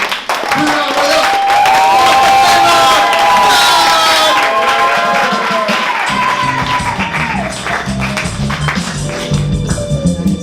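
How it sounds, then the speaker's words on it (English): An audience at a live evening event claps and stomps its feet, the crowd noise swelling into loud, dense applause with cheering and shouts that keeps going for about ten seconds. "Small clap, then build up the clap. Then build it up some more."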